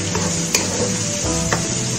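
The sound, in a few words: stirring and frying mutton with onion, tomato and spices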